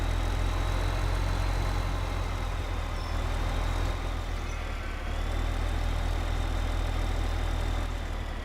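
A tractor engine in Farming Simulator 2015 drones steadily while pulling a trailer, a constant heavy low rumble with a thin whine above it, unbroken and close.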